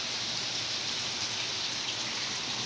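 Heavy rain pours down steadily on a flooded house area, a dense, continuous hiss of drops striking surfaces close by, loud and unbroken with no voices.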